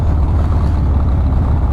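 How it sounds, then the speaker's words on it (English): Street traffic in Los Angeles, heard from a motorcycle rider's position as a loud, steady low rumble of engines and road noise with no talking, lasting under two seconds. "Traffic."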